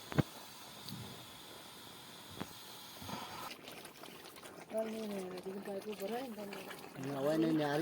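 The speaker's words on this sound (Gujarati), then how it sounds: "બોર ચાલુ કરી દીધો હે. જોઈએ વારું પાણી નીકળે છે કે નહીં નીકળતું." Water pours and trickles from a borewell pipe, a faint, uneven splashing flow heard under people talking.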